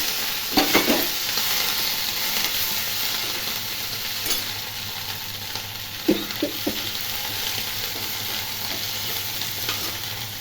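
Curry leaves wilting in hot oil in a pan with the stove switched off, a soft continuous sizzle with occasional scraping stirs and small crackles, close by and steady, no voices.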